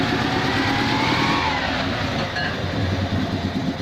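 An Invacar's engine runs on axle stands with a continuous rattling clatter, loud and close, holding a rough steady drone for a few seconds.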